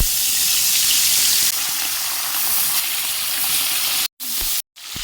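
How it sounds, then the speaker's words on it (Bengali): Bhola fish rubbed with salt and turmeric fries in oil in a wok, giving a loud, steady, close sizzle that breaks off twice in brief silent gaps near the end. "ভোলা মাছে ভালো করে ধুয়ে সেগুলো নুন হলুদ মাখিয়ে ভালো করে কড়ায় তেলে ভেজে নেওয়া হলো।"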